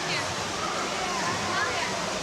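Waterfall inside the Bellagio Conservatory exhibit in Las Vegas, a continuous hiss of falling water filling the indoor space, with someone talking over it.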